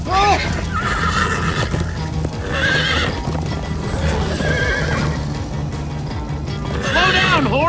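A horse neighs and whinnies several times over steady clip-clopping hooves, with game music and effects playing underneath, in Minecraft: Story Mode.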